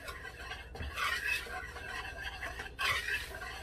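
A spoon stirring dry muffin ingredients, flour with baking powder and salt, in a bowl: soft, faint scraping and light tapping strokes in a quiet kitchen, with no talking.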